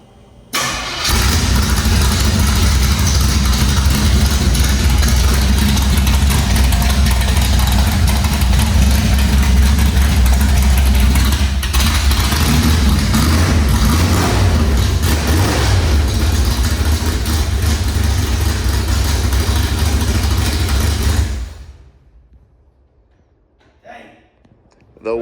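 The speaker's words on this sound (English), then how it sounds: "The world's angriest 307 cubic inch. It is angry." A 307 cubic inch V8 car engine, run with a jump box and a fuel pump wired to the headlights, fires up and holds a loud, rumbling, lumpy idle for about twenty seconds, then cuts off abruptly into near silence.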